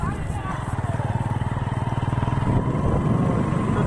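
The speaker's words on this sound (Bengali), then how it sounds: "বাইকটাকে ঘুরিয়ে নিতে হবে।" A motorbike turning around on a road, its engine chugging in a fast, even pulse and rising slightly toward the end, close and loud under a person talking.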